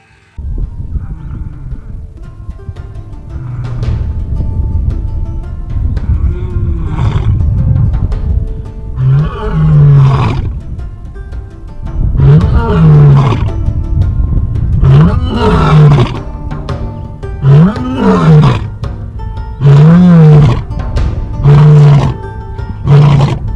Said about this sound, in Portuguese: vai ser sobre esturros, barulhos, rugidos e sons dos grandes felinos